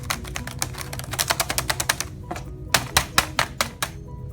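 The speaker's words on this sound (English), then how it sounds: "Do not abuse the keyboard." Chromebook keyboard pounded hard, a rapid burst of loud, close clacking key strikes, then a brief pause and a second, slower volley of heavy hits.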